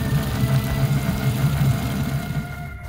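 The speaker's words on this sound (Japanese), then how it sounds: "エンジンは120時間使用のヤマハ60馬力" A Yamaha 60 hp outboard engine with 120 hours of use idles on a pleasure boat, giving a steady, loud, low rumble with a pulsing beat throughout and no speech.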